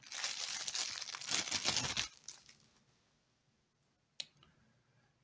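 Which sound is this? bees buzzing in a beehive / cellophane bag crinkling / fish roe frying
cellophane bag crinkling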